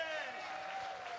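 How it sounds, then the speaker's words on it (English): Applause from an evening showcase audience welcoming the host, a steady dense wash of clapping close by that holds evenly throughout. "could we have a big, sympathetic round of applause for our host this evening?"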